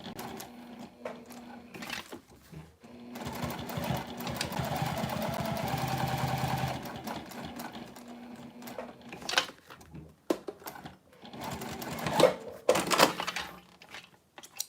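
A home sewing machine stitching a mini box tote, a steady whirring run in the middle with shorter bursts and pauses around it, close and moderately loud, no talking.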